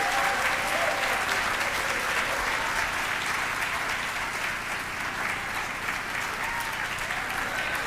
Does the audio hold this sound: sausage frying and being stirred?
no